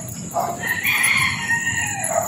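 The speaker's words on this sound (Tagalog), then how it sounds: "Dami mga manok. Dami ilagang manok." Chickens and a rooster at a rural spot, with a rooster crowing loudly nearby while hens cluck around it, and no talking.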